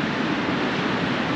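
Rough ocean surf pounding a Texas Gulf beach in heavy winter weather, a steady loud roar of crashing waves and wind that fills the whole stretch without letup.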